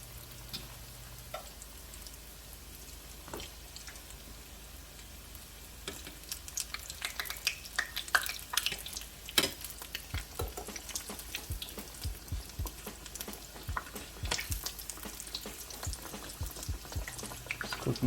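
Deviled eggs frying in a pan, a few at a time, give a steady low sizzle that grows busier and crackly partway through, with bursts of popping spatter heard close by and no talking.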